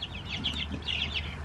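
Soft, continuous clucking from several chickens, a busy murmur of hen sounds close by with no talking.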